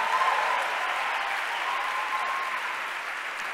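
Sustained audience applause at a leadership conference session in Africa, a steady, fairly loud patter of many hands clapping with no voices over it, easing slightly toward the end.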